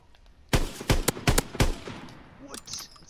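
Rapid automatic gunfire from a World War II–era weapon in Call of Duty: WW2, four loud bursts in quick succession, then quieter background game sounds.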